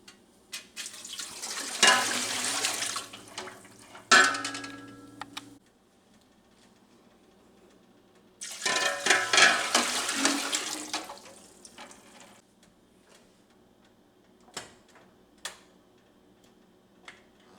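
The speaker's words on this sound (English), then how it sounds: "So now I am rinsing the" Tap water runs over corn being rinsed for canning in a kitchen, two separate bursts of a few seconds each with splashing and clinks between them, close by, followed by a few faint knocks.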